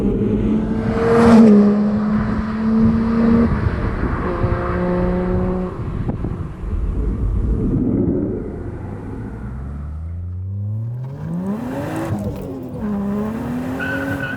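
Toyota Chaser drift sedan with a 1JZ engine screaming up through the revs, rising pitch sweeps as it shifts gears, then tire squeal and a fresh climb in third gear, loud and close.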